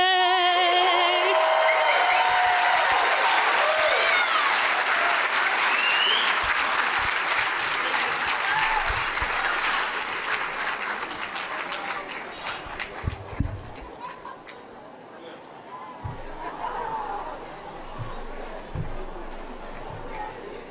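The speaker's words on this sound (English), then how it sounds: "the crowd is officially abuzz" A large gala dinner crowd at an anniversary celebration breaks into loud sustained applause with whistles and cheers, which fades after about ten seconds into a buzz of chatter with scattered claps and a voice speaking.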